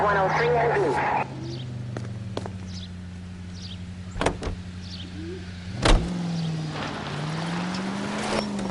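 Car driven in the video game L.A. Noire: a steady low engine drone that shifts pitch as it moves, with a couple of brief knocks and bumps along the way and no voices over it.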